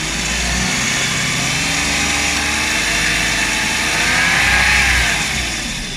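A Suzuki Every Wagon DA64W engine runs with the aircon compressor clutch engaged and the auxiliary fan turning, holding a steady drone before revving up and easing back down.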